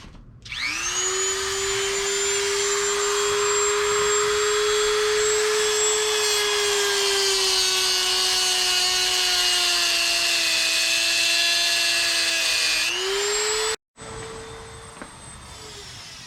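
Power tools work steadily on a Jeep TJ Unlimited bumper, a loud, continuous high whine that holds for about thirteen seconds, drops out briefly, then starts again, with no talking.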